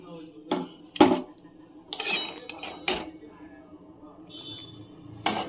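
Boiled fish roe being lifted out of a metal wok, with several sharp clanks and scrapes of a utensil against the pan spaced irregularly, with brief quieter gaps and a faint voice in the background.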